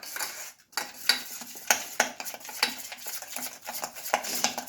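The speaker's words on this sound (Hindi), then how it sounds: "इसमें फेंटते रहना फेंटते रहना फेंटते रहना" Around 100 grams of butter is beaten in a bowl for jeera biscuits, giving rapid, uneven scraping and clinking strokes of a spoon against the bowl, close and fairly loud.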